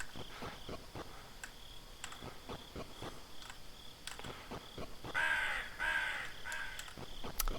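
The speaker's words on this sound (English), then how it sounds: "There was a crow." A crow caws in the horror video game Cursed 3, with several sharp, harsh calls over a faint ticking background. A louder, more insistent burst of cawing comes near the end.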